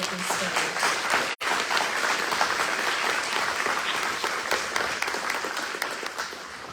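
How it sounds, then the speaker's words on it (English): An audience at a school board meeting applauds spelling bee winners with sustained, dense clapping that fills the room, broken by one brief cut near the start, with speech faintly under it. "Can we have a round of applause for all of these spellers?"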